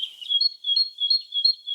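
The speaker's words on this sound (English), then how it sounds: "It was a great tit," A great tit sings alone, a clear, close, high two-note phrase repeated in a steady see-saw rhythm about four times.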